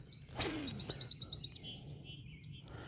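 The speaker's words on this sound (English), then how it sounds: "It's just like non-stop birds and everything else." Birds chirping beside Wills Creek in Ohio, with a short series of high repeated tweets and scattered calls over a low steady outdoor hum, clear and moderately near.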